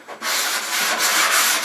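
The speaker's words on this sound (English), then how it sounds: "we're going to give this a light sanding" Sandpaper rubs lightly over a foam-fitted shelf in a few quick, close, scratchy strokes, a steady brushing hiss with no talk.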